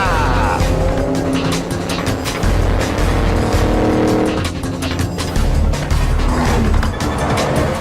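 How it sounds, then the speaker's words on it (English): A 600-horsepower Ford Mustang races a train, its engine roaring loud and steady throughout with tire noise and rushing wind, some sharp bursts and brief squeals layered in. "Come on, Mustang, you are going to beat the train."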